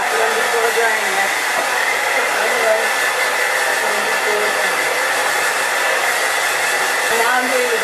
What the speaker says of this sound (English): Now I'm going to actually flip my head over and blow dry it upside down so that creates more volume